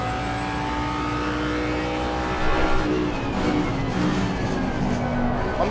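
The Ford Mustang GT3 race car's V8 engine in Assetto Corsa Competizione holds a loud, sustained drone, its pitch climbing and shifting as the car accelerates with no break.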